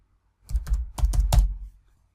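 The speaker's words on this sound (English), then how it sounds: "If I attempt to type in" A short run of firm keystrokes on a computer keyboard while text is entered into an Excel spreadsheet, about five clacks over roughly a second, close and clear with no talk.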